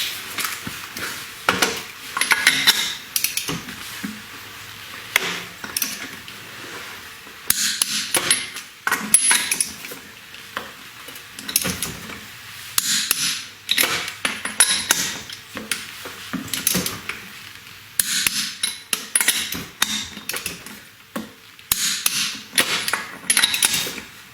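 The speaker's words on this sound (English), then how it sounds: "I'm going to do my final torque of those lug nuts to 80 foot-pounds." Motorcycle wheel lug nuts get a final torque to 80 foot-pounds with a wrench, giving close bursts of metallic clicks, clanks and ratcheting with short pauses between them.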